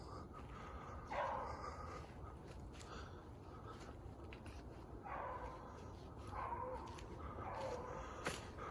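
Beagle hounds baying while running a cottontail rabbit on a Christmas morning chase, faint and distant, in intermittent bursts of yips and bays over outdoor background noise.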